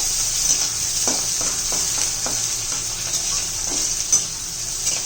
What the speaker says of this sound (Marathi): मिरची आणि कांदा घालू लसूण